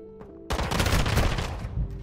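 Rapid automatic gunfire in Call of Duty Modern Warfare II erupts loudly after a brief quiet stretch, a dense, sustained burst of shots close up that runs to the end.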